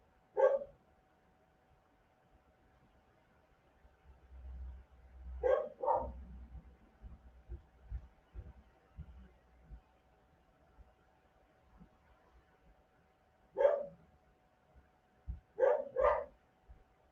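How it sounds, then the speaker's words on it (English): Bailey, a puppy, barks in sharp isolated bursts, one alone and then pairs, fairly close, with quiet gaps and some low thumps in between. "Bailey, puppy, she has barked all 3 days of my meditation"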